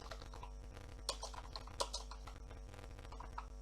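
Keys tapped on a computer keyboard during a web design training session: a faint, steady patter of keystrokes with a few sharper clicks, continuing over low background hum.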